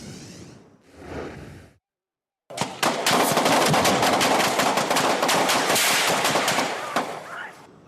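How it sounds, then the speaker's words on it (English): Police open fire overnight on a U-Haul truck backing toward a Coast Guard base barricade in California: after a couple of faint muffled bursts and a pause, a long, loud, dense volley of rapid gunshots rattles on for seconds. "You can hear all the gunfire there."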